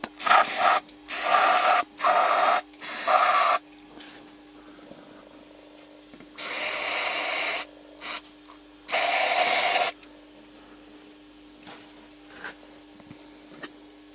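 Brake cleaner sprayed from an aerosol can onto metal parts of a 1960 Opel Kapitän 2.6-litre engine, heard as several close bursts of loud hissing spray of varying length separated by quiet gaps.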